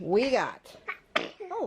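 A single sharp sneeze bursts out partway through, indoors during a messy house cleaning, while a voice talks just before and after it.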